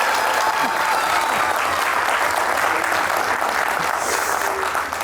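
Steady, dense applause from a studio audience at a comedy concert show, filling the whole stretch evenly and loudly without a break, with no voices standing out.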